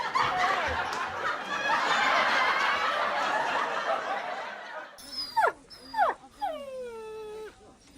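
A dog whines and yelps in a run of rising, wavering cries near the end, preceded by a noisy stretch that sounds like a laughing crowd.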